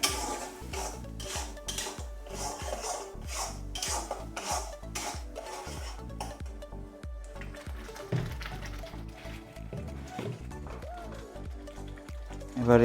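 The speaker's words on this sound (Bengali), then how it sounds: "এবার আমরা এই মশলাটাকে ভালোভাবে কষবো।" Spice masala is stirred and fried in a pan for black mutton curry, with a run of rhythmic metal spoon scrapes and clinks against the pan, then looser rattling and sizzling, close and clear.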